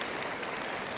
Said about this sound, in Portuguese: obrigada pelas palmas